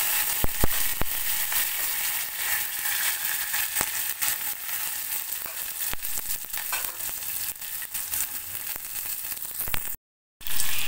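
Onions and curry leaves fry in hot oil with popped mustard seeds in a pan for ivy gourd poriyal, giving a loud, steady sizzle with sharp crackles. The sizzle cuts out briefly near the end.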